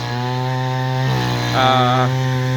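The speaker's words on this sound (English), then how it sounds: "My friend came by to start drilling holes" A power tool drills holes close by, a loud sustained motor whine that shifts pitch as the load changes partway through, with no voices.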